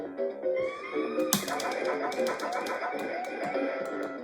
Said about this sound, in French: les bruitages de l'oiseau